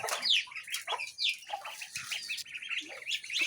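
Farm ducks and other fowl on a rural countryside homestead, calling with several quick, bright squawks and chirpy calls, plus a brief flutter of wings, fairly close and with no talking.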